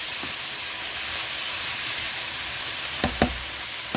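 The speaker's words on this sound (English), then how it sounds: "And you can see that the vegetables are cooking." Vegetables sizzling in a pan for a peanut butter teriyaki chicken stir-fry, a steady broad frying hiss throughout with a few brief sharp clinks near the end.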